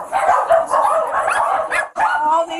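Several dogs bark and yip inside a cluttered house posing as an animal rescue, a busy, overlapping chorus of sharp barks with a few whimpers and a brief lull before it starts again.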